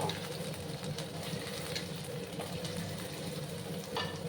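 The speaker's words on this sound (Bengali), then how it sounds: "প্রথমে আমি গাঠি কচুগুলোকে একটু ভেজে নেব।" Gathi kochu (taro) pieces frying in hot oil over a lowered gas flame, a steady close hiss and crackle running through the whole stretch with no voices.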